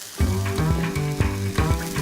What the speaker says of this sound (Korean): 이제 이 정도 구우면은 다 구워졌어요.